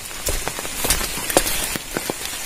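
First monsoon rain falling in Rajapur, Konkan, a steady close hiss of rain on surfaces with scattered sharp drop impacts throughout, no voices.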